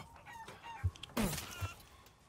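Chickens in the video game Resident Evil Village give a few scattered clucks and a brief squawking burst, with faint game ambience behind them and no speech.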